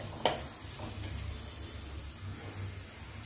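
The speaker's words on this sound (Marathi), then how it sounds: "लक्षात ठेवा, मिश्रण सतत ढवळत राहायचं आहे, असं परतत राहायचं आहे, नाहीतर हे जळू शकतं।" Red chili thecha mixture sizzles softly in a pan as it is stirred and sautéed, a low, steady frying hiss with a faint clink near the start.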